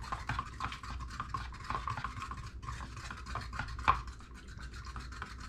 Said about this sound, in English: Our trusty mixer here.